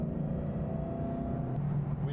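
A 2013 Ford Mustang accelerating hard on the German Autobahn, a steady, full engine rumble with rising tone under constant road and wind noise, close and unbroken.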